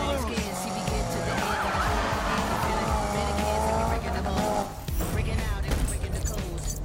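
Tires squeal as a car drifts through a long slide in a Need for Speed racing demo, with engine whine rising and falling over steady game sound and voices talking over it.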